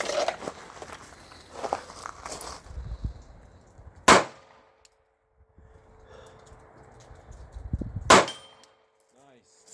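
Handgun shots ringing off a red steel gong at an outdoor shooting range: two sharp, loud impacts about four seconds apart, each leaving a brief metallic ring, with quieter background sounds and movement in between.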